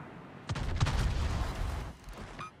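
A naval gun salvo in World of Warships fires as a deep, booming volley of several overlapping blasts, loud and rumbling for about a second and a half before fading, with no talk over it.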